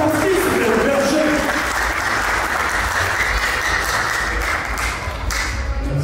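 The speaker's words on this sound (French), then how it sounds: "applaudissez pour lui quand même" Wedding guests clap for the pastor in sustained, dense crowd applause that fills the room steadily from start to finish, with voices mixed in beneath the clapping.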